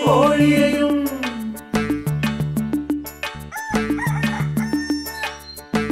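A rooster's crow rings out within a Malayalam children's rhyme, set against a bouncy musical backing with strong rhythmic beats and no talking.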